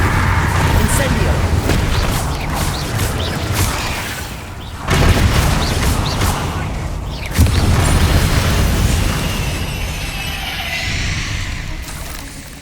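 A Bombarda explosion spell in a Harry Potter video game sets off a couple of deep booming blasts amid rumbling game noise, with a voice speaking over the action.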